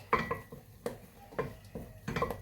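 A spoon stirs white and pink marshmallows with baking margarine in a pot to melt them, producing a few irregular scrapes and soft clinks against the pot, quiet and close with no talking.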